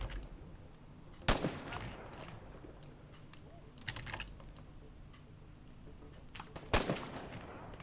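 Gunshots ring out now and then in ARMA 3, with two sharp louder reports standing out among quieter cracks and the steady clatter of keyboard typing, all fairly faint.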